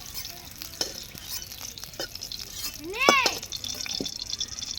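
Eggs lightly frying in oil for egg biryani, with a soft background sizzle and scattered stirring scrapes, plus a brief rising squeal partway through and faint voices.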